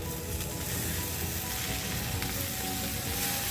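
Stuffed okra (bharwa bhindi) frying in a pan gives off a steady, dense sizzle with faint crackles, close and continuous.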